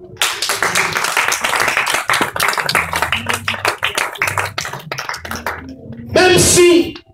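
A church congregation claps to acclaim God in a series of sharp, fairly close handclaps over continuous talk, with a louder burst of cheering and clapping near the end.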